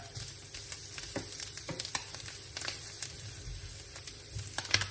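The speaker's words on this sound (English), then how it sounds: "Our bacon is starting to crisp." Bacon for a mushroom risotto crisping in a pan, a quiet, steady sizzle with soft scraping and ticking from stirring throughout, close and without talk.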